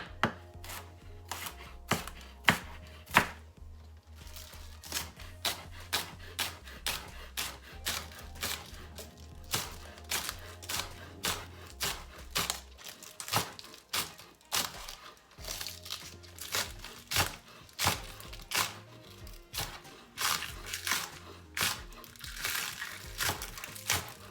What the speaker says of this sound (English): I'm just gonna cut these up nicely as well, guys.